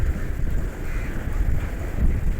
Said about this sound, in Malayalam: ആ മേളുവശത്ത് നല്ല മഴക്കാറ്, നല്ല കാറ്റും കേട്ടോ